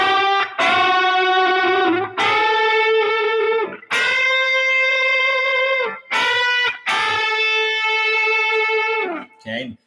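A distorted electric guitar plays a lick of string bends and sustained, vibrato-laden notes, loud and close, phrases separated by short breaks with a faint noise at the end.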